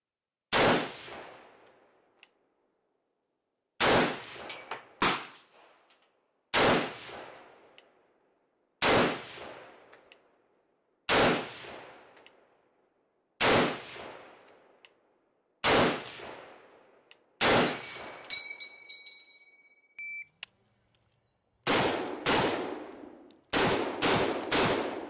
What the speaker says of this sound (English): those 8 rounds of 30-06 come out of this thing as fast as you can pull the trigger